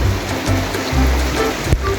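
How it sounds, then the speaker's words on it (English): Fast-flowing, raging water along the trail to the Capua waterfalls near Yura, Arequipa, Peru, rushes loudly and close, a continuous churning roar with a few sharper splashes and thumps. "So be ready to cross some raging water on the way."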